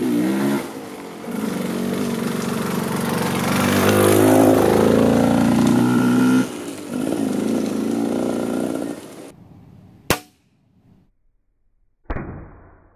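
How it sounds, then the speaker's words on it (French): A motorcycle engine roars past close by, rising then fading away, followed by a couple of short sharp knocks in near silence. "Il y a un mec qui est passé en moto"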